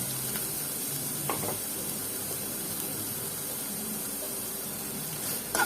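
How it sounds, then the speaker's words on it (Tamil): Grated paneer frying in oil for paneer ghee rice, a steady low-level sizzle and hiss with a few soft stirring scrapes, fairly quiet and continuous without any voices. "எண்ணெய் ஊற்றிட்டு நம்ம வந்து துருவி வச்சிருக்க பன்னீர் சேர்த்துக்கலாங்க"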